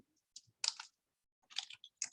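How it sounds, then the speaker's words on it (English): Clusters of soft, quick clicks from keys on a computer keyboard while search terms are entered, faint and close, separated by short silent pauses. "So I'm going to type in right to education"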